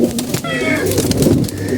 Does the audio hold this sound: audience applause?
no